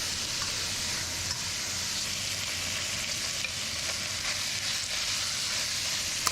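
Lamb pieces fry in batches in a well-worn wok, a steady, close, bright sizzle with occasional stirring scrapes and no talking.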